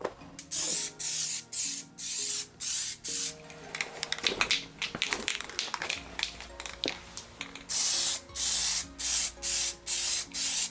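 Rust-Oleum Custom Premium Lacquer spray paint in metallic gold hisses from an aerosol can in short, even bursts, over a dozen close, loud sprays with brief handling noises in between.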